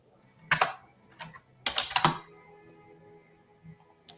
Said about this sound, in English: It's a mechanical keyboard, isn't it?